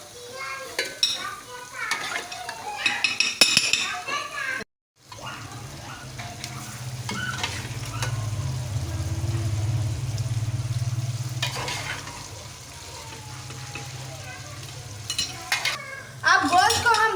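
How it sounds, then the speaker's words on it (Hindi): Beef with masala and brown onions being bhuna-fried in a pot gives a steady sizzle, broken by bursts of metal stirring and scraping, with a brief silent gap partway through. "अब गोश्त को हम भूनेंगे अच्छी तरीके से"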